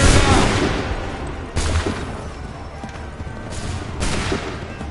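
Soldiers firing a musket volley in Assassin's Creed 3: several loud, booming blasts spaced a second or two apart, each fading into a rumbling tail.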